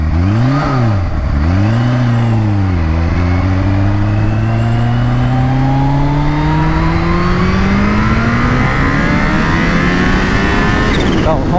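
A Kawasaki H2 motorcycle accelerates hard with its front wheel lifting, a loud close engine roar that dips and climbs through quick shifts, then winds up in one long rising pull to a high-pitched scream.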